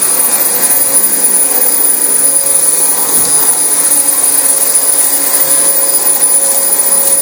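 A Dyson DC25 upright vacuum cleaner runs on a filthy, heavily soiled carpet, a loud, steady whining roar with a high motor tone that holds unbroken from start to finish.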